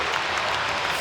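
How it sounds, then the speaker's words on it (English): An ice hockey arena crowd roars and applauds after the Sheffield Steelers win in overtime, a dense, loud, unbroken wash of cheering. "Listen to the crowd"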